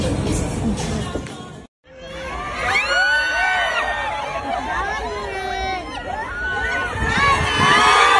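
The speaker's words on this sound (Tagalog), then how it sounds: "Hiyawan ang mga tao pagkakita sa kanilang mag-ama." A crowd in Dubai shouts, screams and cheers at the sight of a celebrity father and daughter, loud overlapping excited voices that pause briefly at a cut and then keep going strong.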